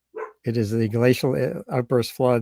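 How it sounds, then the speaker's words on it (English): A dog barks repeatedly in a quick rhythm of loud, close woofs, heard under and between a man's speech. "And excuse the dog."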